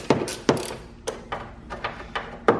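Sharp metallic clicks and ratcheting taps from a T30 Torx driver working screws on the hood latch of a BMW E70 X5, close and irregular, about eight distinct clicks in quick succession.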